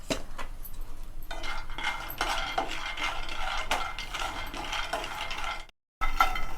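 Peanuts are dry roasted in a pan while being stirred, making continuous rattling, scraping clatter of nuts and spoon against the metal, close and steady, with a brief silent gap near the end.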